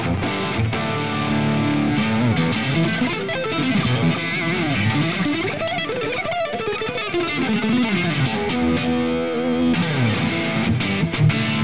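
Electric guitar run through a LiveSpice simulated amp preamp plugin with a 500 picofarad bright cap, playing a continuous, full, slightly overdriven riff alone at steady loud level throughout.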